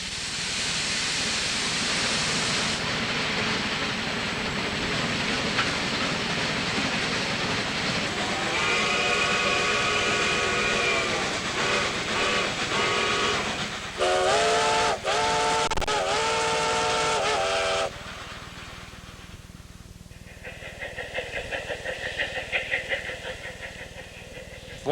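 Steam train climbing a 4% grade east of Chama, New Mexico, its whistle sounding in several loud, long blasts over a steady rumbling roar of the locomotive, with a quieter whistle tone near the end.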